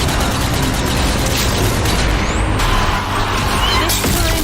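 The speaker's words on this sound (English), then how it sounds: "Some grenade throwing." Grenade explosions in the World War 2 zombie shooter Zombie Army 4: Dead War, dense booming blasts and mechanical clatter layered into a loud, continuous wash of game noise with no clear gaps.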